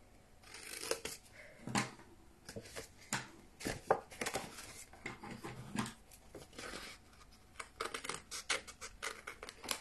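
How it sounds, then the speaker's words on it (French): Scissors cutting a paper pop-up pocket card, a series of crisp close snips and paper rustles in an uneven rhythm, quiet with no talking. "Donc, je vais venir couper ici."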